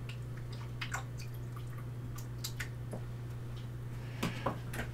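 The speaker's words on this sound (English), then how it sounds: "Wash out my brush because I've been mixing the paints here" Paintbrush swished and rinsed in a water jar during watercolor painting, a few soft scattered drips and light clinks over a low steady hum, faint and close.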